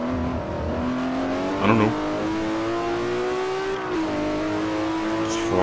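A Ferrari 599 GTO accelerating in Forza Motosport 4, a steady loud engine note climbing in pitch through a long pull with a brief shift dip, while someone talks over it.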